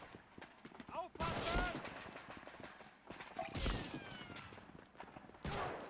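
Sniper gunfire in Medal of Honor Frontline, with a few sharp, loud shots separated by pauses and followed by ringing tails, over a quiet background of game ambience.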